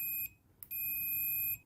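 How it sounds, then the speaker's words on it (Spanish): A digital multimeter beeping during a continuity test: a steady high electronic tone that breaks off briefly, gives a short blip and then resumes, clear and close in a quiet room. "que uno escuche un sonido, un pitido, cada vez que se consigue la continuidad"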